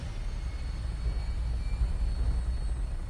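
A Brotherhood of Steel aircraft in Fallout 4 preparing for takeoff, a steady low engine rumble and roar holding at constant loudness with no voices over it.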